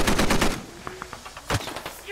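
Gunfire in the tactical shooter Squad: dense rapid bursts of automatic fire up close, a run of scattered single shots, then another heavy near burst followed by lighter popping.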